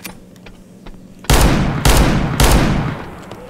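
Three loud revolver gunshots in CS:GO ring out about half a second apart on a pistol aim map, each a sharp crack with a lingering tail, following a quieter stretch of game ambience.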